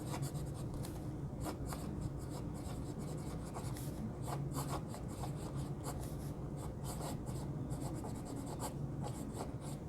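A resin fountain pen scratches across paper in a steady run of soft, close strokes, continuous and quiet with no voice.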